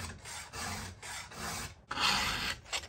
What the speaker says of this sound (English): I'm filing straight down.